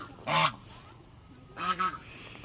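Domestic ducks kept by a household calling in two separate bursts of harsh, nasal quacks, fairly close and moderately loud against a quiet background.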